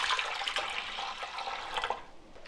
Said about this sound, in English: Add about 3 cups of water to that.